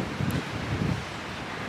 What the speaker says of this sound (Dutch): Dus ik hoop dat die wind zo gaat stoppen.